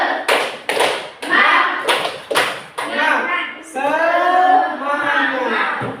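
A school class does a rhythmic spirit clap, sharp bursts of group hand claps in a patterned beat alternating with children chanting together in unison.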